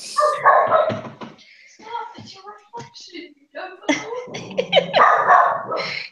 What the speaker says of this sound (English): He's barking at himself.